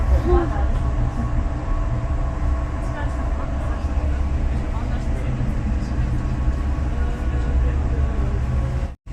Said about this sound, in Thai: คือรถไฟจากสถานีอะไรวะ เพื่อที่จะขึ้นไปที่เมอร์เรน